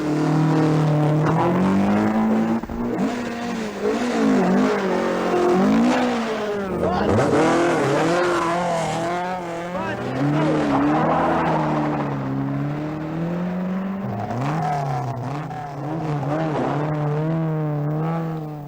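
Loud rally car engines at the 1980 Galway International Rally roar and rev continuously, pitch rising and falling through gear changes, with occasional higher whines as cars push hard nearby.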